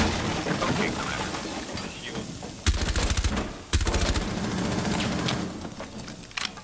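Rapid automatic gunfire from Rainbow Six Siege rattles in two sharp bursts of fast repeated shots, loud against a background of softer distant game noise.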